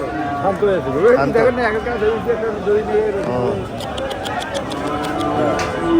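Cattle moo among busy crowd chatter at a cattle market selling cows for Eid al-Adha sacrifice, with people talking close by and a steady hubbub of voices throughout.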